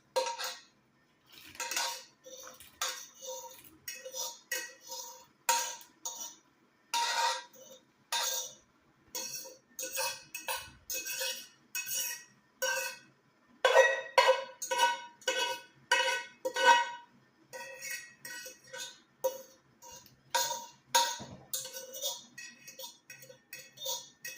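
Repeated metallic clinks and scrapes of a fork against a glass jar of banana pepper hot sauce, close and irregular, in quick bursts with brief pauses.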